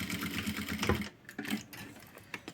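A sewing machine backstitches over a fabric label, a short burst of quick mechanical stitching followed by a pause and a few softer clicks and thumps, close and moderately quiet.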